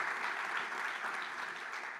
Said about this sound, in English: I want another round of applause for all of our volunteers